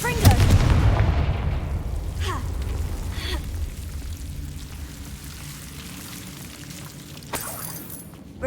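The Confringo fire spell blasts in Hogwarts Legacy, a loud explosive boom up front that decays into a long rumbling tail, with a second smaller burst later.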